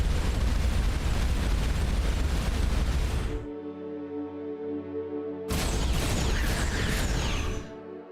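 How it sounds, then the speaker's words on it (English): Laser shots and explosions hit a station in the space game Starcom: Unknown Space, giving a loud, dense blast that cuts to a humming lull and then returns in a second burst before fading. "Kinda shot the station with my laser."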